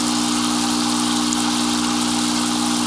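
Two airstones aerate a batch of compost tea, giving a dense, steady hiss of fine bubbling with a constant pump hum beneath, unbroken from start to finish.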